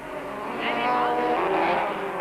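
Mighty Mag race cars in a 1997 Super Series race roar through a stadium left-hander, engine whine rising and falling continuously under a commentator's voice.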